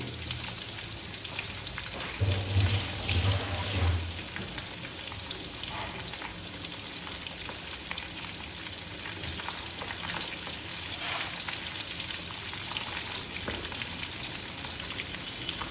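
Oil sizzles and crackles continuously in a pan as tyangra catfish fries over high flame, with a brief louder rumble and faint clatter near the start.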